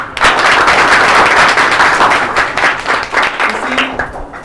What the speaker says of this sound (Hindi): जब आप जैसे लोग ताली बजाते हैं